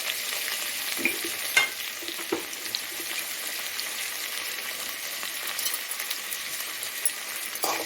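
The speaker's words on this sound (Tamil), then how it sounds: "எல்லா தக்காளியும் போட்டு கொஞ்சமாக உப்பு போட்டுக்கோங்க" Tomatoes with a little salt sauté in a pan for a brinjal curry, frying in a gentle, steady sizzle with light spatula stirring and occasional soft taps, fairly quiet and free of talk.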